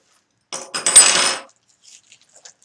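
Metal hand tools, small wrenches and pliers from a 3D printer kit, clatter together in a brief close burst of jangling metal, followed by a few faint clinks.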